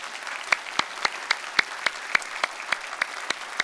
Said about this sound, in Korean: 잠깐 일어나시면 우리 큰 박수로 환영하겠습니다